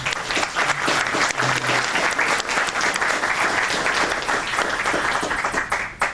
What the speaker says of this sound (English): If you'll all join me in a round of applause.